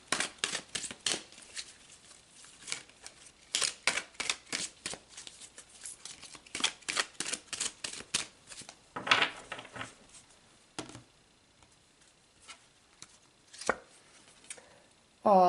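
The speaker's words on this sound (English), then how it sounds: "So let's pull another card." Tarot cards are shuffled with quick crisp riffles and flicks in rapid bursts, then cards are pulled and laid down with sparser taps and slides, close and fairly quiet, with no talking.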